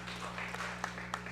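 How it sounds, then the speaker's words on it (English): Press-conference crowd at Superfly 3 applauds boxer Chocolatito, a brief steady patter of clapping with a few sharper claps standing out over a low room hum. "we can get a round of applause, scholars. Yeah, it just applause for Chocolatito."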